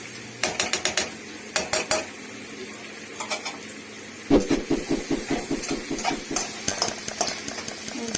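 Chopped capsicum tipped into a cooking masala in a pan and stirred, giving a run of close, rhythmic scraping and clinking strokes of a spoon against the metal pan.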